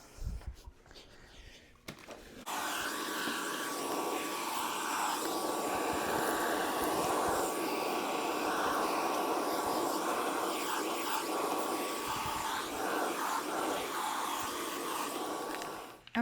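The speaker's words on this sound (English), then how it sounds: "Now, I'm just going to vacuum again." A vacuum cleaner cleaning out a kiln starts with a switch click after a few bumps and then runs as a loud, steady, close whine with a constant tone.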